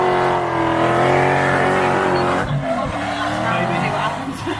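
A long Toyota Chaser drift car at a race track, its engine roaring loud and sustained, with a shifting tone near the middle as it slides through a zone, under what may be an announcer's voice.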